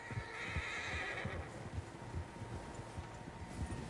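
Horses neigh and whinny across a Red Dead Redemption 2 game scene, several animals heard at middle distance, with a soft patter of hooves running steadily underneath throughout.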